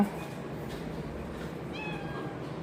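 Cats meowing close by, a few distinct rising mews standing out over a low background hum, with no clear speech.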